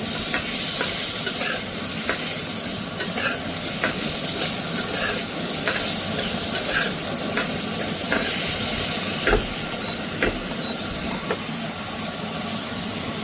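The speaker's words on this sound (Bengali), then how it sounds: "আলুগুলো দিয়ে হালকা একটু ভেজে নেব" Cut potatoes fry lightly in a pan with eggplant, giving a steady close sizzle and hiss with scattered stirring scrapes throughout.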